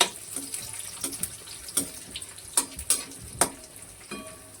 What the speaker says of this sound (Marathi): त्याच्यामध्ये आता हे मनुके आणि ते क्रॅनबेरी ते तळून घ्यायचं छान असं।